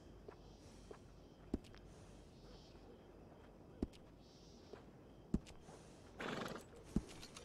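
A horse in Red Dead Redemption 2 after grooming, with soft hoof clops and shifting thuds scattered at a distance and a short breathy snort or whinny near the end, all quiet against a faint background.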